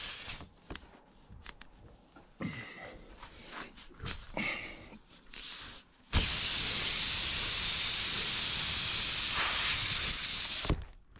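Silicone spray aerosol hissing steadily and loudly for about five seconds near a Ford LT9000 truck with a Cat 3406B engine, after scattered handling clatter and clicks.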